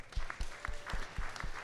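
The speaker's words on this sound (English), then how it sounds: "We'll give a little clap for Max real quick." A small audience at a business mastermind event claps for a few seconds, with light, uneven claps close by.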